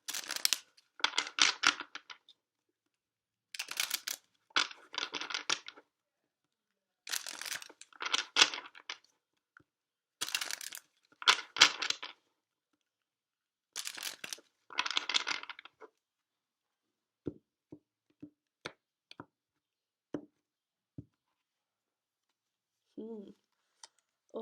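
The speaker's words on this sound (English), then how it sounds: "Give it a couple more shuffles for Taurus-Gemini" Tarot cards are shuffled by hand in repeated crisp riffling bursts, close up, separated by short pauses, then a few lighter taps and shuffles trail off.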